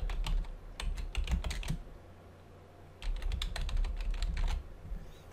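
A name typed on a computer keyboard, two quick bursts of close, crisp key clicks separated by a short pause, with no talking.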